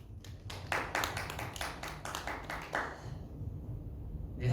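Students at a high school church worship service clap in short bursts of quick, uneven claps, moderately close, trailing off into quiet room tone.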